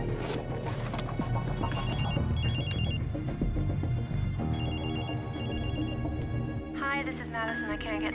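A telephone rings repeatedly in bright, evenly spaced electronic bursts over dense dramatic music, with no one answering.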